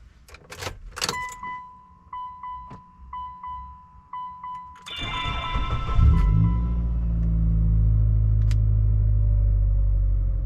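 A 2002 Mitsubishi Lancer with 108,000 miles: keys jangle and clicks first, then the engine cranks and settles into a steady, close idle rumble.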